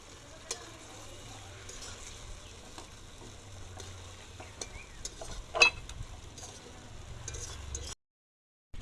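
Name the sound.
stirring lote fish in masala gravy in a pan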